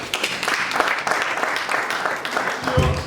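Audience applause at a community reproductive-health discussion: a dense, steady wash of many hands clapping that fills the whole moment, fairly close, with a few voices mixed in underneath.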